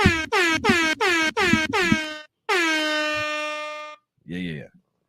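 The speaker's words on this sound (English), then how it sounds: "Get my guy the air horns" A series of loud air horn blasts: six short rhythmic honks followed by one long sustained blare, then a brief final toot, all close and dominant.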